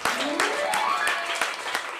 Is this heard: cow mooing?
no